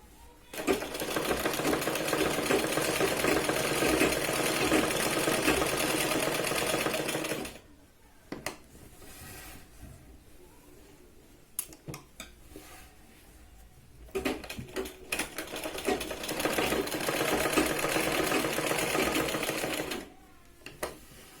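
Sewing machine stitching the neckline of a Punjabi top, a loud rapid mechanical chatter running steadily for several seconds, stopping for a quiet stretch of handling clicks, then starting up again in another long continuous burst.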